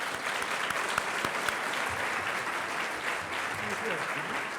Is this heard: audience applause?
yes